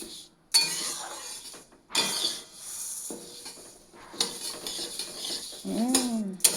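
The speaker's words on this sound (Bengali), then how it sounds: "আমি একটু নাড়াচাড়া করি, আর চাল চাল আনতে যাচ্ছে।" Metal utensil clinking and scraping inside a pot while rice is stirred, a few irregular bursts of clatter with quieter gaps between them, close by.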